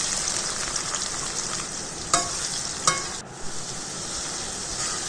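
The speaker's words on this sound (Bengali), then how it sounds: "পেঁয়াজগুলিকে আমি হালকা বাদামি কালার করে ভেজে নেব" Chopped onions frying in hot oil with bay leaves, cinnamon sticks and cardamom pods for a chicken curry, a steady close sizzle broken by two brief stirring scrapes.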